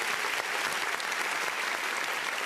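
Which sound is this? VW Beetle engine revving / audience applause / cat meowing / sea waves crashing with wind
audience applause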